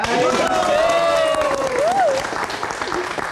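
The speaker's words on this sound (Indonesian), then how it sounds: "Mana tepuk tangannya?" Studio audience on an Indonesian live talk show clapping on cue, a steady spread of applause from start to end, with a voice speaking over it in the first half.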